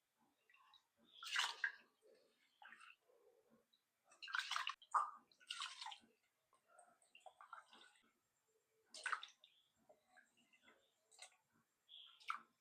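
Rice is dropped into a pot of hot boiling water, producing scattered watery splashes and small ticking drips in irregular bursts, close and fairly quiet, with no talk.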